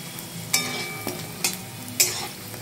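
Fish koftas sizzle steadily in hot oil, with several sharp spattering pops and crackles breaking through the continuous frying hiss.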